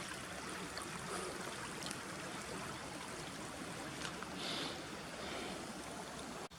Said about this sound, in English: The new lake we dug is nice and full again, with water running past it